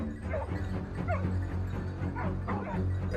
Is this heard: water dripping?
no